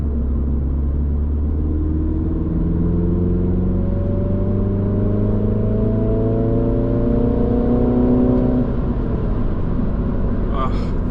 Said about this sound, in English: so you can hear what it actually sounds like when I get on the gas